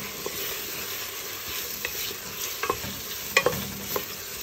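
Chopped onion and small pieces of carrot sautéing in a pot for a vegetable and seafood soup, a soft continuous sizzle with occasional scraping stirs and light clicks of a utensil, close by.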